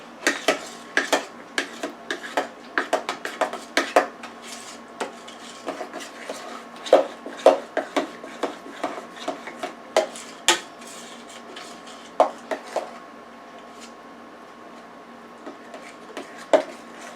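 A spoon stirs grated cheese into spaghetti sauce in a pot, making a steady run of close clinks and scrapes against the metal that thin out toward the end.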